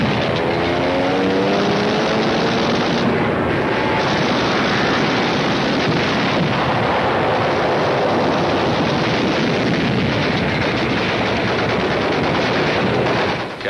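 Dense, continuous gunfire and rattling machine-gun bursts fill the WWII Tarawa landing, loud and unbroken throughout, mixed with a droning engine or aircraft rumble.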